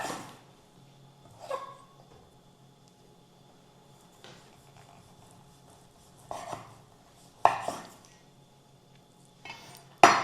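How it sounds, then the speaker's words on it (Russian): A knife slices cured basturma beef in a kitchen, giving a handful of sparse, sharp clicks and clinks against a board or dish, separated by quiet pauses. "А я нарезаю бастурму."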